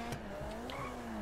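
Car driving in GTA V Online, with a steady engine drone and short tire squeals and skids, loud and close throughout.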